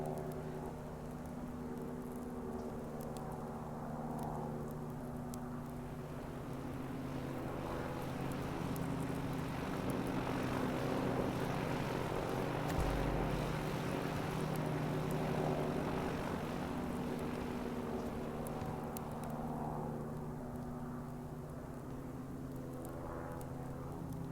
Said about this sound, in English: right in front of us, we've got our first plane coming through